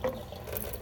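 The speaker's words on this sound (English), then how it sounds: "Don't need a ton of water coming out really fast because it'll just splash." A tap runs gently at a sink to rinse out a paint water bucket after a painting session, a soft brief splash and trickle of water heard quietly and on its own.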